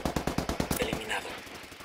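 Rapid automatic gunfire in a first-person shooter game on the Dust Town map, a quick burst of close shots followed by fainter scattered fire.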